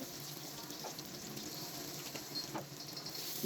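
Spice paste of onion, turmeric, coriander, chilli powder, salt and ground ginger, garlic and cumin sizzling in a pan, a soft continuous frying crackle with faint stirring scrapes and no talk.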